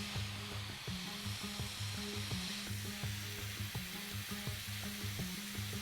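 Flank steak sizzles and crackles steadily on a hot grill, a close, continuous frying hiss with small pops, no voices.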